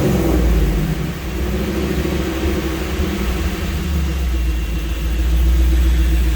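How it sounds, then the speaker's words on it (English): A V8 engine swapped into a 1999 Jeep Wrangler idles smoothly and steadily up close, a loud, even low rumble with a faint regular pulse running through the whole stretch. "Idling perfect."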